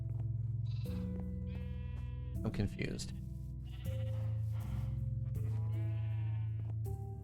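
Sheep bleating in Minecraft with the Create mod, several nasal bleats in a row, close and clear, over a low steady drone, with a voice speaking briefly in the middle.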